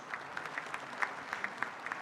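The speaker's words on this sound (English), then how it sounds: "Let's all appreciate this initiative with a big round of applause." Audience members at a VGGS2024 seminar clap together in a short burst of applause, moderately loud and even, from a hall full of people.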